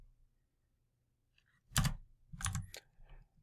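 Computer keyboard typing while finishing a technical drawing: a faint tick, then a few quick close-up clusters of key presses in short bursts against a quiet background.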